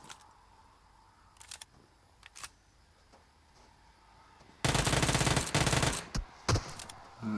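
Video game gunfire from a duos match cuts in halfway through as a loud, dense burst of rapid shots. A few separate shots follow after quiet, faint game ambience, with no talk.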